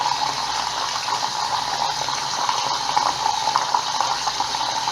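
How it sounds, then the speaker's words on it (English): Hot tap water runs steadily over dirty coils being rinsed, a continuous close splashing hiss with no pauses and no talk. "I'm going to turn on the water on hot"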